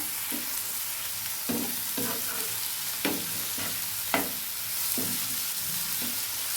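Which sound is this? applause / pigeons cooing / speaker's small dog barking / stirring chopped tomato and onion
stirring chopped tomato and onion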